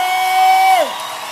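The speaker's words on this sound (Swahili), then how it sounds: "Wapi shangwe na vigelegele ya Julius Wakegosho?" A church congregation at a Sunday service cheers and ululates, with a loud sustained high cry that holds steady and then slides downward over a dense crowd roar.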